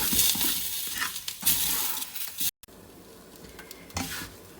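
Bread crumbs roasting in melted desi ghee in a pan for halwa, with steady close sizzling and scraping stir strokes, a brief silent break midway, then continued frying alone.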